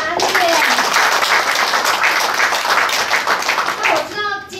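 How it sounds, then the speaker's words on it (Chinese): Warm, sustained applause from an audience at an association members' meeting and handover ceremony, dense clapping filling the room for several seconds before a voice speaks as it fades. "那先给大家自己一个热烈的掌声好吗"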